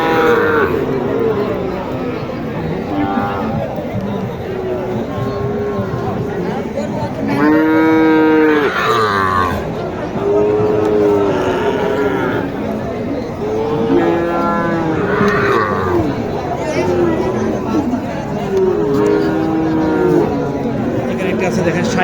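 Sahiwal calves moo repeatedly, with several drawn-out calls rising over the steady noise of a busy outdoor crowd and engines at a cattle market in Naogaon, Bangladesh.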